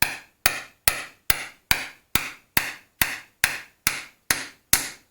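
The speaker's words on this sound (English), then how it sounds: "I'm going to tap it down with a hammer" A hammer taps a cap into a Land Rover steering box, about a dozen sharp metallic knocks struck at a steady, even rhythm, close and clear with no talk.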